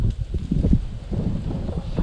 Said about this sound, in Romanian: Uite, mă, ce bate vântul.